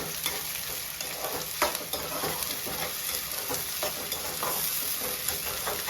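Mutton pieces and onions seasoned with chilli powder and salt sizzle in a pan for a gongura mutton curry, with constant close frying hiss and repeated scraping stirs of a spatula, no one talking.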